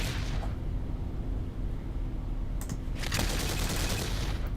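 Tech 1 autocannons in the space game Eve Online fire in a steady rattling stream, a dense continuous barrage with sharper bursts toward the end and no voices over it.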